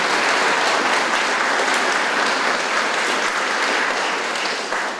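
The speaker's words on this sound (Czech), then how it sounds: "Určitě to zaslouží potlesk." A large crowd claps steadily and loudly for the whole five seconds, a dense even wash of applause.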